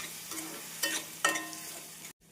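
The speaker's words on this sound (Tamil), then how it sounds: "அரைத்த தக்காளி பேஸ்ட்டை சேர்த்து விடலாம் தக்காளி விழுது சேர்த்து மீடியம் ஃப்ளேமில் இரண்டு நிமிடம் வதக்க வேண்டும்" Ground tomato paste sautéing with onion and ginger-garlic paste over a medium flame for tomato rice. A soft, steady sizzle is broken by a few stirring scrapes, then cuts off abruptly near the end.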